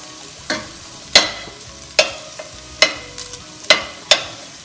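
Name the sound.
pork liver frying in its own fat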